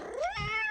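A kitten lets out a single rising, drawn-out meow, close and clear, lasting under a second with no talking.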